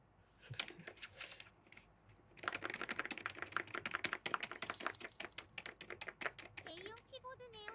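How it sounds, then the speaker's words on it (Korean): Keys clatter on a heavy gaming keyboard, starting as scattered taps and then building into a fast, dense run of clicky keystrokes up close, with a voice briefly heard near the end. "이거 게이밍 키보드인가 보다"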